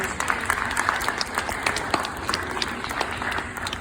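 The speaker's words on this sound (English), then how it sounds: "How about we give her a nice big round of applause?" Audience applause during a hot glass demonstration at a museum of glass, a steady mid-distance patter of many hands clapping for about four seconds with no talk over it.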